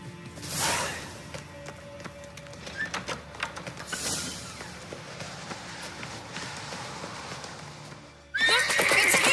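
In The Witcher 3 video game, a horse whinnies loudly twice amid a scene of clip-clopping hooves, then a sudden burst of noise closes the clip.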